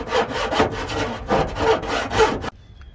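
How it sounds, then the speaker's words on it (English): A fine-tooth metal file rasps back and forth over the cut edge of a hole in a camper van's metal ceiling, giving about five close, rhythmic scraping strokes before stopping abruptly. "I'm gonna take a metal file, a fine-tooth metal file, and then just gently work this stuff."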